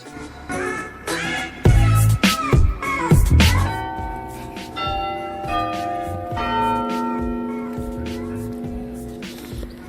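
Bells from a church with a 37-metre clock tower in the old English town of Bridgnorth ring out in clear, ringing strikes that leave long, sustained tones, with voices and other background noise underneath.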